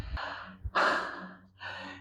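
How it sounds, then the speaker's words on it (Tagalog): Heavy, audible panting from someone winded after mowing a lawn in Canada, with three loud gasping breaths at close range and no talk over them. "Hingal!"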